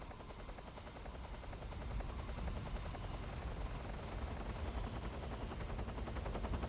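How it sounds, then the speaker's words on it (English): A helicopter in a stealth action video game drones steadily with dense rotor chop throughout, loud and continuous, mixed with faint bursts that resemble distant gunfire. "Son of a bitch, that's a helicopter."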